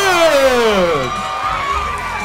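An arena crowd at a boxing match reacts to a majority decision for a new Oklahoma cruiserweight champion, a loud swelling wash of shouting and jeering voices that stays dense and close for the whole moment.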